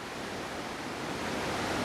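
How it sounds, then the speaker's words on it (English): A continuous roar of falling water at Blakely Falls, a rock waterslide on Hull Creek in Pennsylvania, heard up close as dense white-noise rushing that swells slightly toward the end, with no one talking. "Right here, Blakely Falls."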